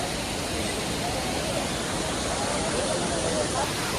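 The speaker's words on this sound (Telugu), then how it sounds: "వాటర్ ఫాల్స్ చూడండి, మధ్యలో మినీ వాటర్ ఫాల్స్." Steady broadband rush of falling water near Kedarnath Temple, constant and fairly loud with no breaks, like a waterfall heard from nearby; faint voices may be blended in.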